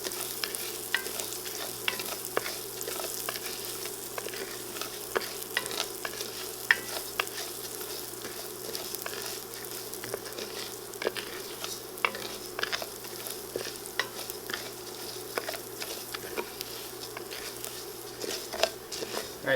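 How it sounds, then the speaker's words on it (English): Garlic toasting and sautéing in a pan for a vegan vegetable soup makes a low, continuous sizzle with scattered soft stirring scrapes and taps, fairly quiet throughout. "So we're actually kind of just toasting it,"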